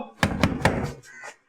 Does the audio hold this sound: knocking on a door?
yes